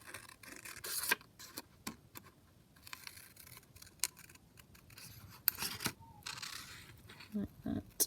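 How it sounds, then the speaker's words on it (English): Scissors snipping around paper kit pieces, a quiet, close series of short irregular cuts and rustles, with faint background noise between strokes. "I'll just cut round here."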